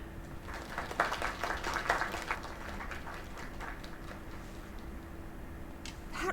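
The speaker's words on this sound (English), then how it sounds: "round of applause" A round of applause from a small gathering at a lakeside finale, with scattered clapping that swells early, then thins and fades toward the end.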